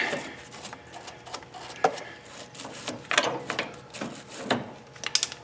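Socket ratchet turning a bolt on the steering of a lawn tractor, with irregular bursts of clicking and metallic clatter, close up and moderately loud, with no talk.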